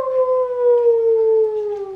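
A person imitates a wolf howl with one long, steady, drawn-out vocal tone that glides slowly downward in pitch, close and fairly loud.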